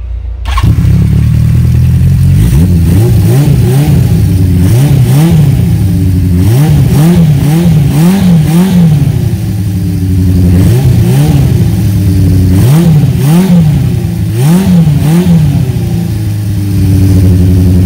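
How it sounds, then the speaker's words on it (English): A 1976 Honda CB550 motorcycle engine starts and idles, then revs repeatedly through its exhaust, each throttle blip rising and falling, loud and close. "I thought this exhaust would be a lot louder than it is"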